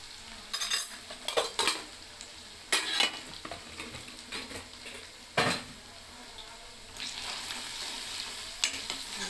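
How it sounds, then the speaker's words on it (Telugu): Ginger paste sizzles and fries in a pan as a utensil scrapes and stirs it in uneven bursts, close and moderately loud, with a steady low hiss underneath. "అల్లం పేస్ట్ వేసిన కొంచెం ఆ పచ్చివాసన పోయేదాకా ఫ్రై చేసుకుందాం"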